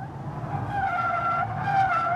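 Tires of a Mercedes C63 AMG squeal steadily through a drift, a loud sustained screech riding over the engine's low roar with no one speaking.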